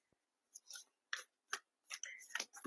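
Tarot cards shuffled by hand in short bursts of crisp riffling and flicking, close and fairly quiet, with gaps of silence between strokes.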